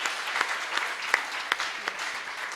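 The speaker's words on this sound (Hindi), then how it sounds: "एक बार तालियां बजा दें" An audience at a Hindi poetry recital claps steadily, a dense patter of many hands with a few sharper individual claps standing out, moderately loud and without voices.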